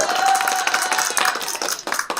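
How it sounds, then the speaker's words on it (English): A lone man claps his hands several times in quick succession, close and fairly loud, the claps uneven and overlapping with a bit of room noise. "Let me give my applause"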